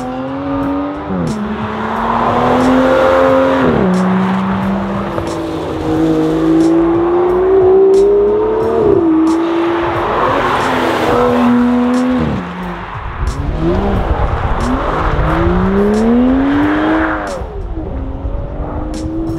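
An Aston Martin DB11 with a 608 hp V12 accelerates hard at full throttle, its engine note climbing through repeated gear changes with rising and falling revs, loud and close throughout.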